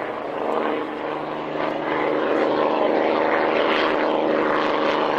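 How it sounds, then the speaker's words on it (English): Corsair propeller fighters taxi at the Duxford Flying Legends airshow, a loud, continuous piston-engine drone and prop roar that swells slightly as the aircraft pass close by. "The Corsairs are back, taxiing down for fuel."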